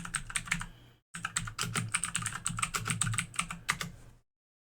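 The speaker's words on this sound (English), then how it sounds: "So let's type that in." A computer keyboard typed on in quick bursts to enter a terminal command, close and crisp with steady clicking keystrokes, a brief pause after the first second, then a longer run before stopping.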